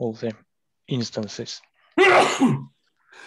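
A single sharp sneeze at a close microphone, set between short bursts of someone talking during an online software demo meeting.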